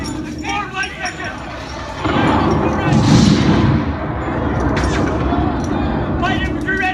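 Musket and artillery fire at a battle reenactment on the Niagara frontier, a loud sustained burst of booming shots and crackling volleys with shouting voices mixed in.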